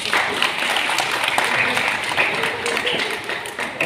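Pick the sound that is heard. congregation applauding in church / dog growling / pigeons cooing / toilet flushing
congregation applauding in church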